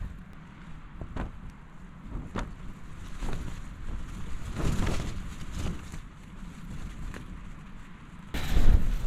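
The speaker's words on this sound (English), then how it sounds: "it's very windy when there is wind" Strong gusty wind roars and buffets a tent's fabric at a camp in the Glyderau, Snowdonia, in bursts, with flapping rushes rising and falling and a louder gust near the end.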